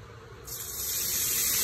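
Wine is poured into a hot pan to deglaze it after fillet steak has cooked. A quiet background suddenly gives way to a loud, steady sizzling hiss that grows and holds.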